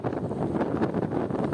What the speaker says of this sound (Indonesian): Hujan deras, angin kencang dan gelombang tinggi menghantam pelabuhan Merak, Banten.